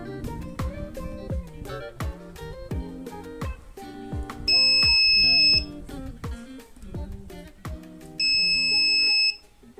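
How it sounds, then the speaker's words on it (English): An Arduino buzzer triggered by a vibration sensor gives two shrill, steady one-second beeps over loud rhythmic background music with a pulsing beat. "when a vibration is detected, our buzzer activates for 1 second"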